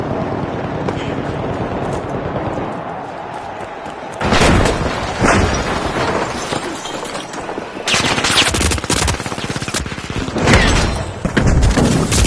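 Frag grenade blasts in the game The Finals, heavy broadband explosions hitting around four and eight seconds, each rolling into a dense crackling, rumbling tail over steady background game noise.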